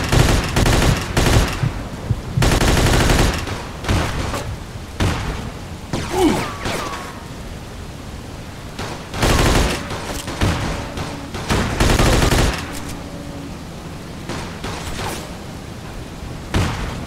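Machine-gun fire from the Mafia 2 video game rattles in loud repeated bursts and sustained volleys, with mechanical clatter and gaps of quieter ambience between the bursts.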